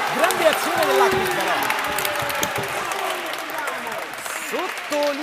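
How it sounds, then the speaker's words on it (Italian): A futsal crowd at a Serie C1 indoor match breaks into sustained, dense applause and cheering, loud and close throughout, with a commentator talking over it. "sottolineata dai applausi scroscianti del pubblico"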